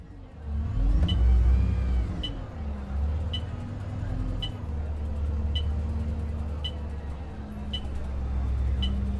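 A bus engine idles and rumbles steadily at close range in the OMSI 2 driving simulator, with regular faint clicking ticks over it, probably an indicator, and a brief rise in engine load near the start.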